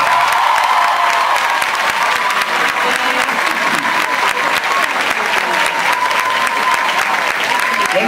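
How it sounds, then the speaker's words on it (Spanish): Loud, sustained applause fills the hall at a Dominican journalism forum, steady and dense throughout with a crowd murmur and faint voices underneath. "Recibamos con un fuerte aplauso a Nuria Piera."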